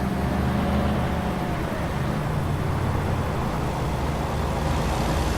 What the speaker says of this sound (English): That sort of whiny noises from buses.